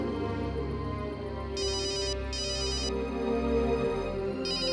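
A mobile phone rings with an incoming call, a melodic ringtone whose bright repeated chirps come in bursts over a sustained musical bed, close and fairly loud.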